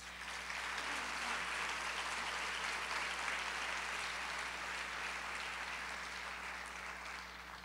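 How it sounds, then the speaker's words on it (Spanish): An audience at a university lecture hall breaks into sustained applause, a dense even wash of clapping heard from a slight distance over a low steady hum, tapering slightly at the end. "Otro fuerte aplauso, por favor."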